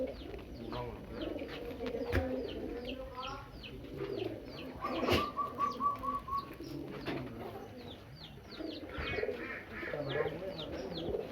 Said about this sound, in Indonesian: burung tara.